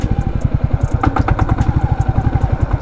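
A Royal Enfield Classic 350 motorcycle sputters as its fuel runs out, a close, loud train of rapid thumping engine pulses with uneven spacing and clattery bursts, running alone without voices.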